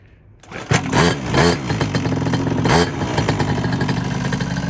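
Quad bike engine with the choke partly on, starting up and revving in uneven bursts, then settling into a steady, rough, clattering idle, loud and close with no talk.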